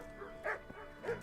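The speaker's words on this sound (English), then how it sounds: "Stop barking." A dog barks twice in the medieval role-playing game Kingdom Come, short moderately loud yelps over a low game background.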